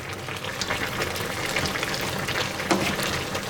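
Pork bone soup with radish greens simmers and bubbles in a pot as cut potatoes go in, a steady close boiling hiss with small splashes and a soft clink near the end.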